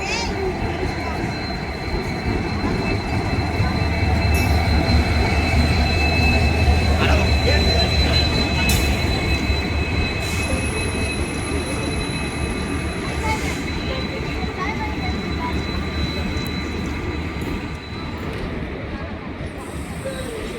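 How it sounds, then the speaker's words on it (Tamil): A Trichy to Rameswaram passenger train arrives at a station close by with a deep, continuous rumble, faint squeals of wheels on rails, and high metallic whines over the noise. "ஸோ அந்த ட்ரெயின் வந்துட்டான், திருச்சி டு ராமேஸ்வரம் பேசஞ்சர்."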